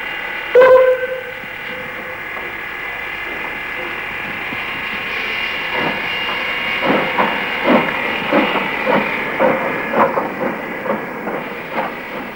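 The Norwegian steam locomotive on a heritage railway line toward Rolvenden gives a sharp burst of escaping steam, then a steady hiss as rhythmic exhaust chuffs build and quicken, joined by clicking wheels on the rails.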